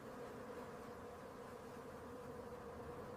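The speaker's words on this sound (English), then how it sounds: "Swarms of guard bees instantly swarm around its head and body." Swarm of guard bees buzzing around a honey badger digging at a decayed tree base, a steady, dense insect drone with no break, fairly faint and heard alone.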